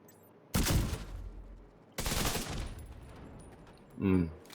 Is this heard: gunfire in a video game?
yes